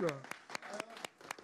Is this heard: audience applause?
yes